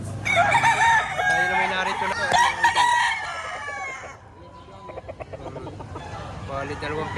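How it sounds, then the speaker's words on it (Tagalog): Bull stag roosters crow loudly and repeatedly in a close farm setting in Padre Garcia, Batangas, with overlapping calls and some clucking. Someone talks intermittently between the crows. "Mga bull stag naman ito, bull stag."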